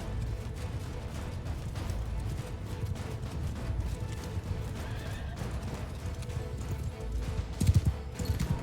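Horses in Mount & Blade II Bannerlord make steady hoof clatter amid battle noise, with a neigh, while the galloping rumble continues throughout and grows louder near the end.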